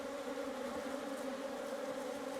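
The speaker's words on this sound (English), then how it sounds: "I'm absolutely covered in bees" A dense swarm of honeybees buzzes steadily and continuously all around a suited beekeeper on a Portuguese farm, a close, unbroken drone with no voices.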